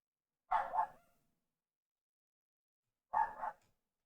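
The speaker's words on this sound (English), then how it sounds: "Dogs are barking." Two separate dog barks, each a short double bark, are spaced about two and a half seconds apart against silence. They sound moderately close and come through alone.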